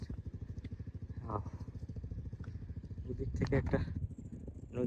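A passing trawler's engine putters steadily in a fast, even chug on a river, with people talking over it and a louder stretch near the end.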